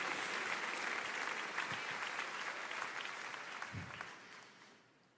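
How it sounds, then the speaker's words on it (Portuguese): Applause in a church as the congregation claps to praise the Lord, a full, steady roar of hands from many people that stays even and then fades away at the end, with no voices over it. "aplauda o Senhor"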